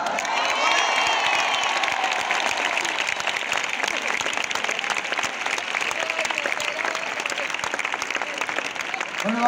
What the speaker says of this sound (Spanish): Y el aplauso más fuerte de la noche para la ciudad de Málaga.